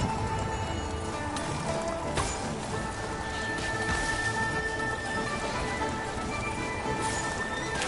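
Rain falling in the video game Genshin Impact: a steady, dense hiss of downpour that continues unbroken, layered with other game effects and soft tonal sounds.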